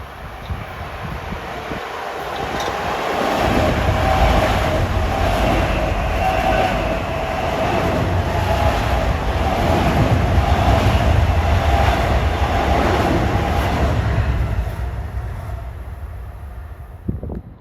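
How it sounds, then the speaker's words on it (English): Long Island Rail Road M3 commuter trains bound from Penn Station to Ronkonkoma roar past in a steady, close rush of wheels and rail noise that swells, holds for several seconds, then gradually fades. "There are a couple of Ronkonkoma trains coming at me here."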